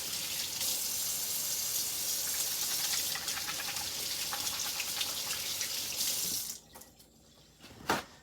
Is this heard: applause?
no